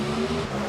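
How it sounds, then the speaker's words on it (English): NHRA drag racing engines at Bristol roar past the finish line in a brief, loud, steady buzzing rush with no voices over it. "The two engines buzzing past the finish line stripe"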